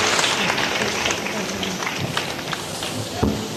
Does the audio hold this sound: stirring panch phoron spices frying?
no